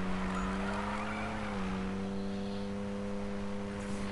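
A car engine drones steadily in the Need for Speed racing game, a sustained tonal hum that dips and shifts pitch partway through, with no voices over it.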